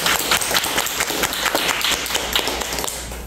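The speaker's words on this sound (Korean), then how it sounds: "박수 한번 부탁드립니다." An audience claps at a question-and-answer talk session at a study and practice centre in Busan, a busy mix of many hands beating unevenly and fairly close, fading slightly toward the end.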